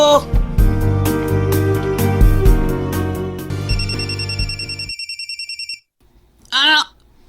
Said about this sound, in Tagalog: O pagkari yung pagpauli, may nanawag naman.